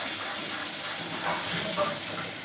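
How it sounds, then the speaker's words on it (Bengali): Rice boiling vigorously in a covered pot on a home stove, a steady bubbling hiss with soft gurgles throughout, close and continuous. "এদিকে আমাদের ভাত হচ্ছে টকবগিয়ে।"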